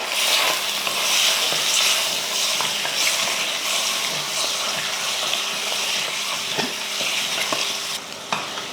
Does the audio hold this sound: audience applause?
no